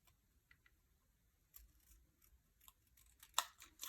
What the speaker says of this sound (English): I'm just trimming those extra little points off